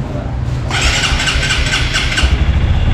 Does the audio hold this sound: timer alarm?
no